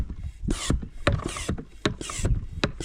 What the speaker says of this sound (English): Now I'm gonna start pumping, see what happens.